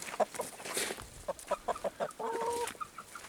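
Chickens in a coop give a quick run of clucks followed by a drawn-out call, close by and soft, with no voices.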